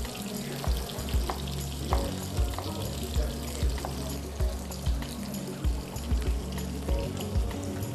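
Shrimp and ginger frying in a pan, a steady close sizzle and crackle with regular soft thumps as the food is stirred or tossed.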